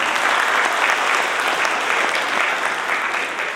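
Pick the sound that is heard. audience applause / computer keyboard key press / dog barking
audience applause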